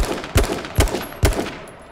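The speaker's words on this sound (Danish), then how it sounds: "Nogen, der skyder efter os. Skud dernede fra os." Gunfire in the video game H1Z1: King of the Kill comes as three sharp, evenly spaced shots, each with a short echoing tail, fairly loud against a steady background hiss.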